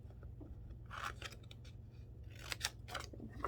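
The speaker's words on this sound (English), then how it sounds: "now I'm gonna just take my scissors, these guys here, and make my little tabs" Scissors cutting small tabs into paper for a box-making craft demo, a quiet run of crisp snips and crunchy cuts in irregular bursts, close by, with no talking.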